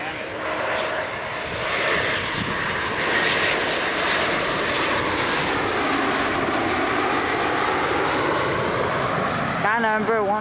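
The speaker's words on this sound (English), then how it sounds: "Lufthansa A346's sighted" A Lufthansa Airbus A340-600 jet airliner at Toronto Pearson roars loud and steady, a broad engine rumble that holds throughout before a brief change near the end, with voices over it.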